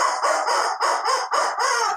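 A rubber chicken lets out a string of shrill, honking squawks, about six quick bursts in a row, loud and close with nothing else behind it.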